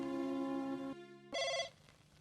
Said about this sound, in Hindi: अजय किसका फोन हुआ है?